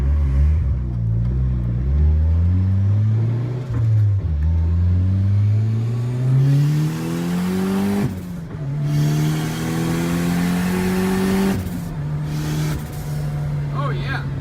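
A Nissan 240SX S13 with a new turbo revs repeatedly, its engine note climbing and falling in several pulls heard close from inside the car, with voices talking over it.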